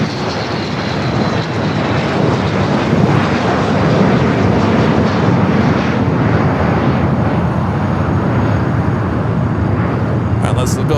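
An SAS airliner taxiing at LAX gives off a steady, loud broadband jet rumble and whine that holds evenly throughout, with a faint high tone riding on top.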